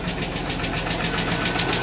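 A 1991 Mercedes 190E idles up close, a loud steady engine drone with a rapid rhythmic lifter tick and small exhaust pops running through it.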